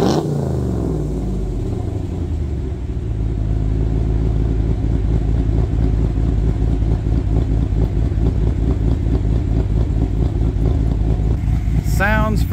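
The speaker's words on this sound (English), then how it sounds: "so let's do a little rev." A 6.4 HEMI V8 in a RAM 2500 pickup, fitted with a Hellfire 2.0 cam and a Karnage Series 1 big-body muffler, rumbles loudly up close. It climbs from a choppy lumpy idle into a sustained rev, with a faint voice near the end.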